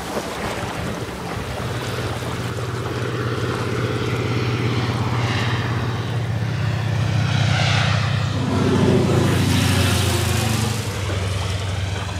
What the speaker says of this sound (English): Here comes a plane into land.